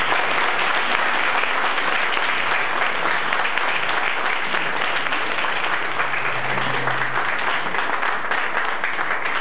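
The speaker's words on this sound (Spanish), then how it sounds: "les pido un gran aplauso" An audience at a tribute event applauds, giving steady, dense clapping that holds loud and even throughout, with a faint low hum beneath it and no talk.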